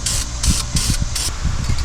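Aerosol can spraying VHT roll bar and chassis gloss paint onto a car part, four loud hissing bursts of roughly a quarter second each in a steady rhythm, close to the can, with faint low workshop noise underneath.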